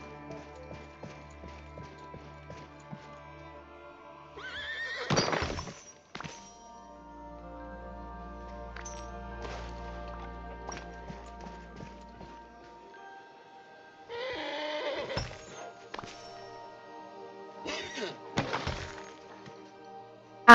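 Horse sounds in the farming video game Wishblossom Ranch: two short bursts of whinnying neighs amid scattered hoof clip-clops and clunky game effects, separated by quiet stretches over soft background music.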